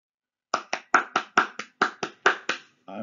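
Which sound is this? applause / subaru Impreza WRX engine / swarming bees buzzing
applause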